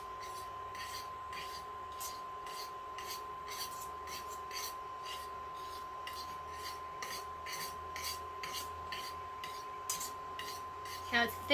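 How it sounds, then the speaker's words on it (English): A whisk gently folds vegan rice pudding thickened with tapioca flour in a pan over medium heat, giving soft, rhythmic scraping strokes, faint and close, over a low steady hum. "Stir that in and fold it in with the whisk"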